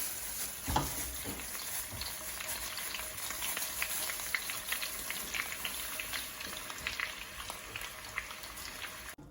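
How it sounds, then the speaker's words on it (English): Two pounds of ground beef frying in hot oil in a pan, a dense steady crackle and sizzle with scattered pops and an occasional clink of a utensil, heard close up without talk. "heat up some oil in our pan, and then we're gonna take 2 pounds of ground beef"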